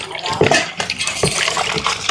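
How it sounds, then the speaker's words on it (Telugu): Water poured into a pot of country chicken curry, a steady splashing pour running under continuous close talk, with a few soft clinks along the way. "నీళ్ళు కొంచెం నీళ్ళ పోసి"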